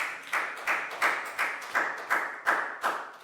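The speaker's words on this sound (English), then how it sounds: "Big round of applause." Schoolchildren in a Year 4 maths classroom clap together in a sharp, regular rhythm of about eight beats, close and distinct with short pauses between each clap.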